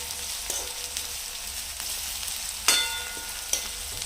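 Onion with lightly crushed ginger-garlic paste frying in a pan for paneer bhurji gives a steady close sizzle, broken by a few sharp clicks and scrapes of stirring, with no talk.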